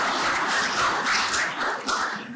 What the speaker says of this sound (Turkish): bu kulüplerimizin, kurum ve kuruluşları meydana getirip müsabakaya sokan bütün kurumları el birliğiyle bir alkışlayalım